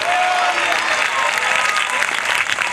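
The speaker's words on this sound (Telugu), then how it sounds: "ఒక్క నిమిషం ఆగకుండా స్తోత్రం చెబుతూ చప్పట్లు కొట్టండి గట్టిగా." A church congregation claps loudly and continuously in dense, steady applause filling a large hall, with voices blending into the sound.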